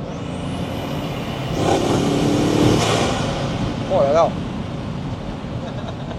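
A Bugatti Mistral roadster's engine is under light throttle at about 2000 rpm, a constant rumbling drone that swells as the car accelerates, with a person speaking over it.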